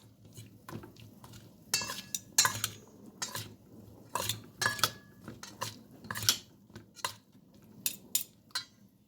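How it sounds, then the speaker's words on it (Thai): Thai flower salad of Kevätesikko blossoms and leaves being tossed with utensils in a bowl, giving a run of irregular close clinks, scrapes and soft rustling bursts, fairly quiet with no talk. "ก็คลุกเคล้าให้เข้ากันค่ะ"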